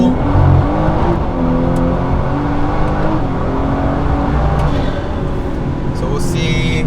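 A boosted BMW F30 pulls hard through second gear, its engine roaring loud and rising steadily throughout as someone talks over it.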